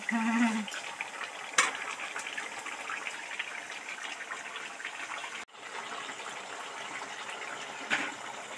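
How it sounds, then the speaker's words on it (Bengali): Chicken curry masala gravy sautéing in a pan, a steady low sizzle with a spoon stirring and scraping, plus a couple of clinks against the pan, close and even throughout. "মোটামুটি কষা তো কমপ্লিট হয়ে এসছে, এখনো 5-7 মিনিট ধরে ধরে কষবো, তবেই টেস্ট আসবে।"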